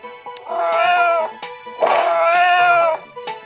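Two long, drawn-out meows come from a cat in a computer game, loud and close, each lasting over a second, with faint clicks between them.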